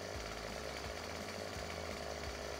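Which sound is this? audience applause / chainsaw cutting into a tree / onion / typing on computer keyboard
chainsaw cutting into a tree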